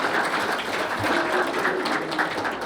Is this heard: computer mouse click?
no